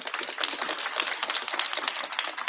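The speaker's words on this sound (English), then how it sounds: "You can clap." A crowd clapping at an outdoor rally of restaurant workers in Balboa Park, a steady, fairly distant patter of many hands with no voices over it.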